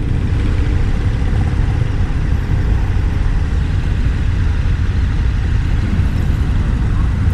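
A 2023 KTM 1290 Super Adventure S motorcycle ridden in sport mode gives a steady, loud engine drone with heavy low rumble and wind noise throughout, without much variation in pitch.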